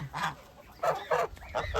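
Domestic duck on a small farm calling in a few short, raspy honking quacks, fairly faint and separated by brief pauses, with no voices over them.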